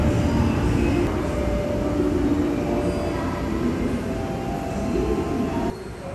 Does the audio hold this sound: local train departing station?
yes